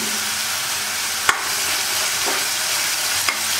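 Cut onions sautéing with a little salt and curry leaves in a pan for Tamil-style pepper chicken, a steady close sizzle with two brief stirring clinks over it.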